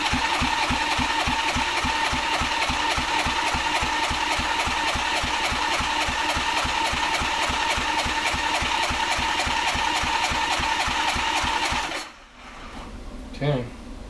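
Engine of a 1983 Honda GoldWing cranking at full throttle during a compression check, a fast, even, loud chugging of the starter turning the motor for about twelve seconds before it stops abruptly, followed by brief handling noise.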